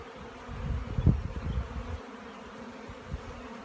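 Bees buzz steadily inside an opened garden hive, a close, dense hum with a louder swell around the first second and a half before settling into a softer drone.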